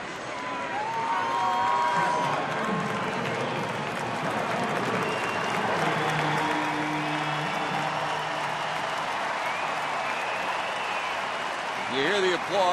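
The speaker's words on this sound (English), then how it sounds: "You hear the applause, and deservedly so" Baseball crowd at a Reds–Brewers game in Milwaukee applauds a player returning to the lineup, steady broad clapping and cheering sustained throughout, with a commentator's voice talking over it.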